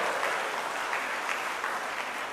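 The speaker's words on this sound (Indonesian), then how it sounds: "Tepuk tangan saja kasih bapak-bapak ini." A church congregation at a fathers' gathering claps in steady, even applause, many hands sounding together throughout the short moment without any voices over it.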